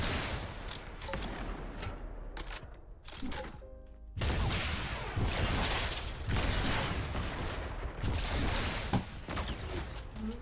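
Rapid rocket fire in Fortnite: Battle Royale, a dense barrage of loud overlapping blasts and explosions that keeps going almost without pause, with a brief lull partway through.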